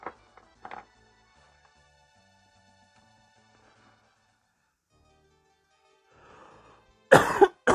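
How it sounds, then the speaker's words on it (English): After several seconds of near silence with faint background tones, a single loud, harsh cough bursts out close to the microphone near the end. "sorry for coughing in"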